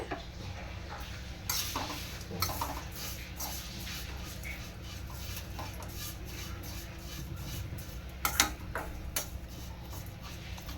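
Vermicelli being roasted in a pan for a festival payasam, with soft scraping and stirring, occasional sharp clinks of a utensil against metal over a low steady background.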